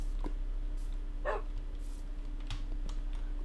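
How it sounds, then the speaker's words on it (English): A dog in a video game gives a few short, quiet barks and yips, spaced out over a steady low hum of background noise. "Ooh, there's a dog."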